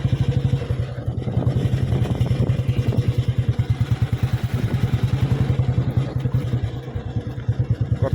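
A two-wheeler motorbike rumbles over rough terrain, its engine thumping in a fast, regular pulse close to the mic, with rattles and clatter from the bumpy ground throughout.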